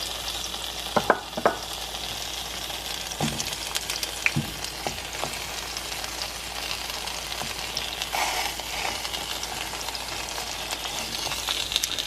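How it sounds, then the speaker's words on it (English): Milanesa and potatoes fry in a pan with a continuous bright sizzle, broken by occasional sharp pops and clinks of utensils, close and steady with no talking. "So now I got everything cooking."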